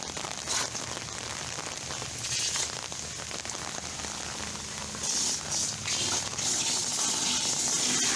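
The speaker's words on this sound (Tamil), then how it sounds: "மழை ஆரம்பிச்சிருச்சு திரும்பி." Heavy cyclone rain pours onto a surface nearby, a steady crackling patter that swells louder in places, with no one speaking.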